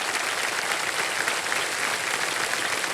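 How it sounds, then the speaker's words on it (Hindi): Studio audience applause on the KBC quiz show, a loud, dense and even burst of many people clapping together for three seconds, with no talk over it. "तालियां बज जाएं"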